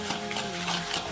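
A wooden spoon mixes golden syrup in a bowl, a steady, close, continuous stirring and scraping texture with no talk.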